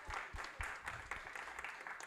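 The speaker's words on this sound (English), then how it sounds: "Give yourself a over an applause," Applause from an audience at a student showcase event, a soft, steady patter of many hands clapping, fairly faint and distant throughout.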